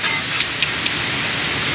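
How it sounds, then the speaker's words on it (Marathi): Heavy unseasonal rain pours down in a village, a steady dense hiss of falling water with a few faint ticking drops on a surface, close and continuous throughout. "बघा अवकाळी पाऊस किती पडतोय"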